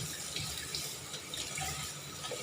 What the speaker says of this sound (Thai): ปลา ล้างให้สะอาด